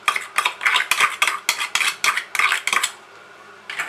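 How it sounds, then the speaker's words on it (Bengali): A spoon stirs mustard paste, poppy seed paste and green chilli paste together in a bowl, making brisk, rhythmic scraping and clinking strokes. After a short pause, one more stroke follows. No one speaks. "ভালো করে মিশিয়ে নেব।"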